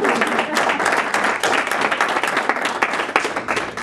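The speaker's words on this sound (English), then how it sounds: "That we can applaud." Audience applause fills the room, dense steady clapping that stays loud and close throughout, marking a 30th birthday celebration at a talk on conflict resolution.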